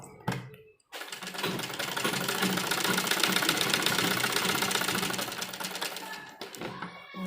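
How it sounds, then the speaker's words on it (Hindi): Sewing machine stitching the folded edge of a dupatta, a steady dense mechanical whir running continuously for several seconds after a brief pause, close and fairly loud. "यहाँ पर भी किनारे पर हम सिलाई लगाएंगे।"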